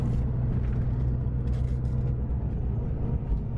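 A Marcopolo New G7 Scania coach cruises along the Costanera Norte highway in Santiago, heard from inside as a steady, close low rumble of engine and road noise with no voices.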